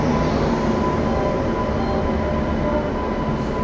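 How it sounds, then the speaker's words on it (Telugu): A Jan Shatabdi Express pulls in at a station platform, its loud, steady rumble and rolling hum continuing without a break and with no voices. "మనకు వచ్చేసిందండి జనశతాబ్ది ఎక్స్ప్రెస్"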